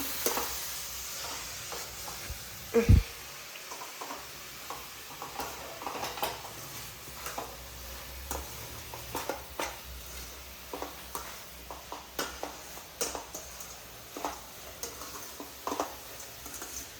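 Carrot palya with fresh coriander frying in a pan, with steady soft crackle and sizzle broken by repeated scrapes and taps of a spoon stirring against the metal, close and moderately loud with no talking.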